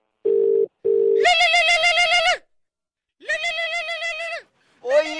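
A telephone tone after a call is cut off: two short, steady beeps, followed by loud, wavering, harmonic electronic tones that stop and start again.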